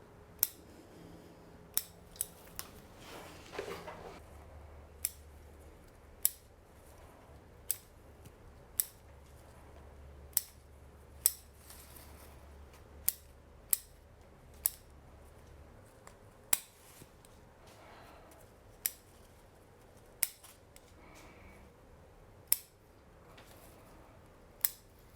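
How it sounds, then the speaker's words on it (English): Pruning scissors snip branches on a Japanese maple bonsai, a steady series of about twenty crisp, close clicks spaced a second or so apart over quiet background with faint handling noise. "So I'm going to start cutting this back"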